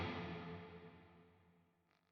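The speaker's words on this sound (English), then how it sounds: "Let's have a little listen to what the reverb's doing." A single guitar note rings out through a Fortin Nameless amp model on a Quad Cortex, decaying slowly into a long, washy reverb tail, fairly quiet and alone.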